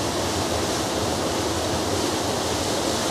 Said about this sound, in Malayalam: ഇതാണ് ഷട്ടറിൽ നിന്നും വെള്ളം ഒഴുകി വരുന്ന കാഴ്ചകൾ